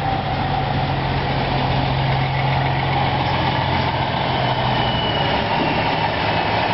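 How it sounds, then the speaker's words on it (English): A big truck rolls up and sits idling with a loud, steady, continuous engine rumble and no break in the sound. "There's Fred with his big truck."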